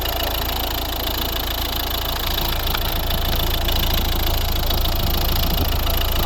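A steady, continuous diesel engine idle from a 2011 Volvo V50 1.6 D2 HDi (D4162T), with a low rumbling throb and faint knocking texture, close by and unchanging throughout, no voices.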